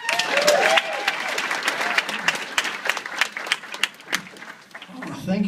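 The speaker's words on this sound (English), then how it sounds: "One more round of applause." Comedy club audience at Winnipeg's Funniest 2013 applauding comedian Chris "Mr. Bigg" Coghlan as he slowly walks to the stage, a dense sustained round of clapping with some cheering, close and loud throughout.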